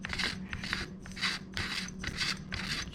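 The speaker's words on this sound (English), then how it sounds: "So now we're gonna remove the barrel shroud" The barrel shroud of a Panzer Arms BP12 shotgun is twisted off by hand, giving a series of close, gritty rasping scrapes in short repeated bursts.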